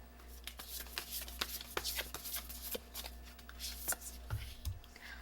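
Tarot cards are shuffled by hand close by, producing a quiet run of papery riffles and soft snaps at an irregular rhythm, with no talking.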